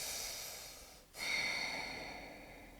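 Deep, slow breath drawn in and let out during a post-run yoga stretch, a single soft inhale followed by a long airy exhale, close and alone.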